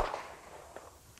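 A pistol fires during police firearms qualification practice at a shooting range: a single sharp, loud crack at the very end of a near-quiet stretch.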